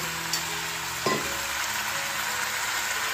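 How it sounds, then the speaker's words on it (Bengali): Chicken and potato pieces fry in spiced oil, a steady close sizzle with small crackles and a brief stir-like clatter partway through, no voices. "একসঙ্গে চিকেন আর আলুর টুকরোগুলো মশলা তেলের সঙ্গে ভেজে নেব।"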